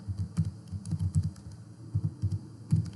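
Someone types a customer ID on a computer keyboard while coding, with close, quick clusters of keystrokes in uneven bursts separated by short pauses. No voices are heard.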